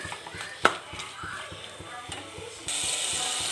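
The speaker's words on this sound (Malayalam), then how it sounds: "നന്നായി ഇളക്കുക വഴറ്റുക" Prawn curry masala being stirred and sautéed in a pan, with one sharp clink of the utensil early on, soft scraping and a quiet sizzle that grows into a steadier hiss near the end.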